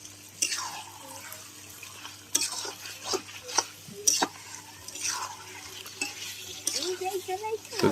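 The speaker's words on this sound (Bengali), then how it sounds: "ভালো করে একটু নাড়াচাড়া করে নিতে হবে।" Chicken with spices, for a Kolkata-style biryani, is stirred in a pan. Intermittent scrapes and wet sloshing sit over a low background hum, with a brief bubbling spurt near the end.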